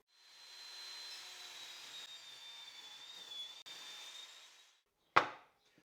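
A power saw cuts a wood board to width, whining steadily for several seconds before spinning down, followed by a single sharp knock of wood.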